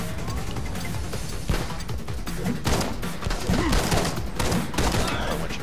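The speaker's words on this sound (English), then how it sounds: "Shoot that guy in the back. Shoot that guy multiple times." Dense video-game gunfire, with rapid overlapping shots, a shotgun blast and bursts of automatic fire, loud and continuous over several seconds in a chaotic apocalypse battle, with no talking.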